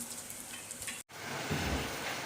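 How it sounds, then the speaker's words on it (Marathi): Semolina-coated fish fries in oil on a flat griddle, giving a close, continuous sizzle and crackle, broken once by a brief cut, with no speech. "त्या तव्यामध्ये तेल टाकून फ्राय"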